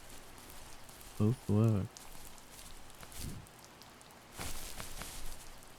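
Steady light rain patters on surfaces in the video game The First Tree, a soft continuous wash under a brief spoken phrase and a few scattered footstep-like thuds.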